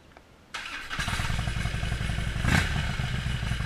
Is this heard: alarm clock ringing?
no